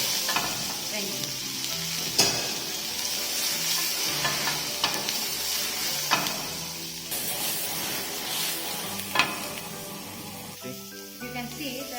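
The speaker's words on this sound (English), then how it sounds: "So the pan is heated, and I'm going to be adding the vegetables and the" Vegetables and mushrooms sizzle loudly in a hot grill pan, a constant crackling hiss broken by a few sharp pops and clacks of utensils against the pan.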